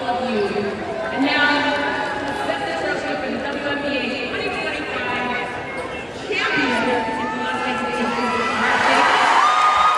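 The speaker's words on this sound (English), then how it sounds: "Listen to the crowd cheering for Mark Davis." A large crowd at a WNBA game cheers and whoops continuously, with shouting voices and chatter layered throughout, the roar swelling louder toward the end.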